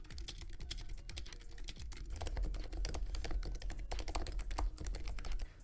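Rapid, continuous typing on a modified mechanical computer keyboard, dense clacky keystrokes close up and fairly loud throughout, with only a brief murmur of voice.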